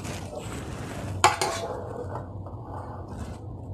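A pressure cooker lid is opened after its pressure is released, a single sharp metallic clank followed by a brief rattle against the pot, close and fairly quiet amid low kitchen background noise.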